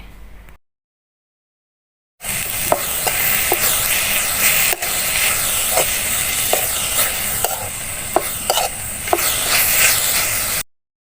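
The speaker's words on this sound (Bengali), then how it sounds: "সজনে পাতাটা ভালো করে নেড়ে চেড়ে ভেজে নিতে হবে" Moringa leaves stir-frying in a pan with onion and chili, a steady loud sizzle with intermittent scraping stir clicks, after a brief quiet gap at the start.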